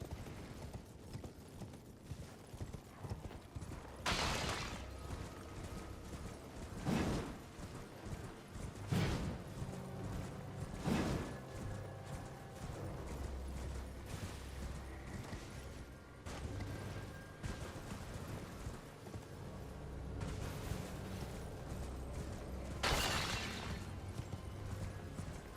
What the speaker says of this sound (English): One is breaking all the crap in her tower by riding it through it on a horse.